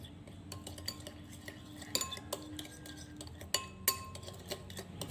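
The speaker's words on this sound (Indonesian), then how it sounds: "Setelah itu saya aduk sampai semuanya tercampur merata." A spoon stirs in a bowl with soft scraping and scattered light clinks against the sides, quiet and irregular, no voices.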